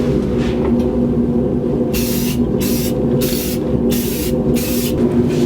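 Spray gun laying the final top coat of paint on the roll cage of a 1949 Chevrolet gasser: four sharp bursts of hissing spray, close and loud, over a constant low compressor hum.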